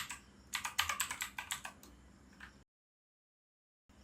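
Typing on a computer keyboard at a command prompt: a quick burst of close, crisp key clicks, a couple of isolated taps, then silence.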